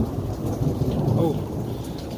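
A thunderstorm with rain: steady, dense rainfall hisses throughout with a low continuous rumble of thunder underneath, broad and enveloping, no voices present.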